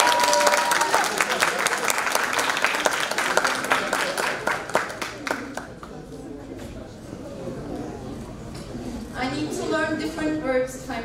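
A room of listeners claps for a speaker at a student talks event, loud crisp applause that thins out and fades midway, followed by quieter room sound and a voice talking.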